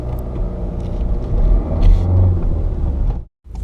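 A manual car's engine rumbles low and steady as revs build gently while pulling off on a flat road, close and continuous before cutting out briefly near the end.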